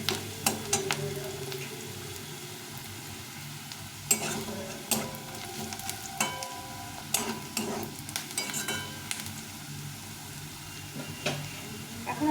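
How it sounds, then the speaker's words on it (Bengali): Onions sizzle in hot oil in a pan, with a spatula scraping and stirring in scattered clicks and knocks over a soft, continuous frying hiss, close and moderately quiet. "তো পেঁয়াজটা এভাবে ভেজে নেব পেঁয়াজটা ভেজে নিয়েছি লাল লাল করে"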